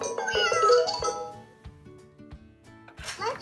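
Meows from a pop-up sound animal toy, a cat voice repeating several times at close range over a light musical toy jingle with soft clinks.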